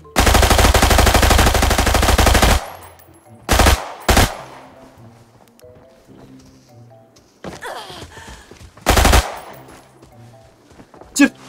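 Automatic gunfire in an online battle-royale shooter game: a long sustained burst of rapid shots opens, followed by a few short, loud bursts separated by quieter stretches with faint game sounds.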